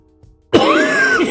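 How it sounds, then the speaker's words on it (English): A single cough bursts out close and loud, followed by a rough, rasping throat sound lasting about a second, with no talk around it. "Oh, this cough's coming back."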